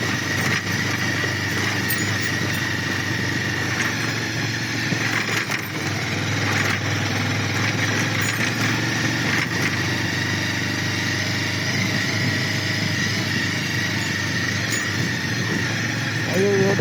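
A motorcycle engine hums steadily during a ride, a continuous mid-pitched drone with wind rush and occasional bumps over the full stretch.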